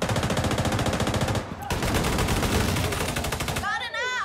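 Sustained automatic gunfire in The Division 2 fills the clip with dense, rapid, loud bursts, broken by a brief pause before firing resumes, then a whooshing game effect near the end.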